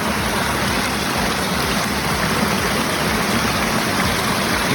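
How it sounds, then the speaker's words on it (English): Wide, fairly deep pools of a large pondless waterfall in Pennsylvania give off a steady, soft gurgle and wash of moving water, continuous and close with no voices. "Up here the sound is much quieter. It's more of a low gurgle."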